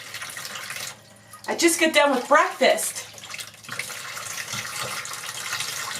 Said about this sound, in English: my water doesn't run very fast, but it's fine for what I need